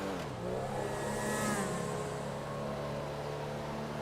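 A GTA V fire truck pulls away from the roadside, its engine note rising steadily and continuously, with no voices over it.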